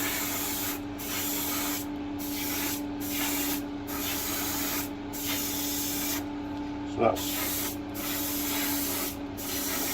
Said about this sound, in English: just spray away from this edge, backwards and forwards, back down